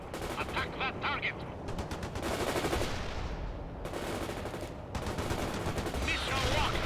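Sustained automatic gunfire and explosions rattle through a World in Conflict battle, with rapid bursts continuing almost without pause and dense, loud combat noise throughout.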